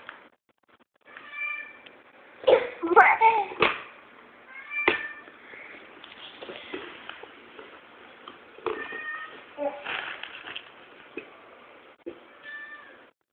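A cat meows several times in close, loud calls that vary in pitch and length, with short pauses between them and no one talking.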